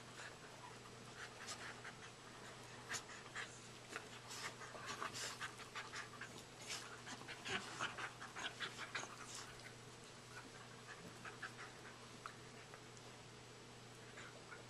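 Two dogs pant rapidly and steadily at close range, a continuous breathy rhythm lasting the whole stretch, with small clicks and shuffles mixed in.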